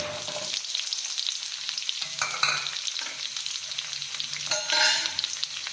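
Chana dal and a chopped onion frying in a couple of spoons of oil give a steady close sizzle, with stirring scrapes and a brighter crackling burst near the end.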